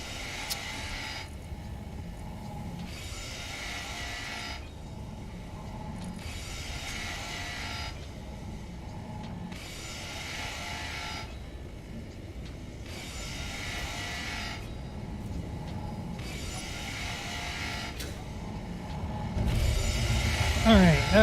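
A ship being ground down by grinders in the game Space Engineers, a continuous mechanical whirring and grinding drone that pulses in regular on-off cycles, with a louder rumble near the end.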